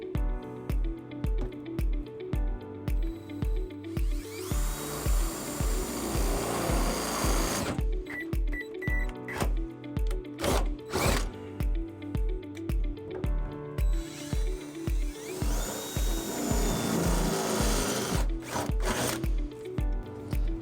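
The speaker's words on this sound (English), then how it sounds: "use these two holes in the bottom of the trunk pan to drill our holes for our next bolts" A power drill with a 1/2-inch bit whirs in long bursts through the metal trunk pan of a 2011 Toyota Camry, with a steady rhythmic mechanical clatter running throughout, close and continuous.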